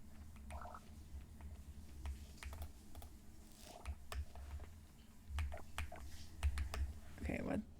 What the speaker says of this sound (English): Oh, this keyboard sounds so good.